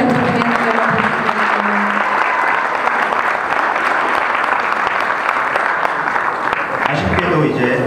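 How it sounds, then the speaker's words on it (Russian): An audience at a Russian-Korean concert applauds, a continuous loud wash of clapping filling the hall, with brief voices audible at the start and near the end. "Давайте еще раз аплодисменты."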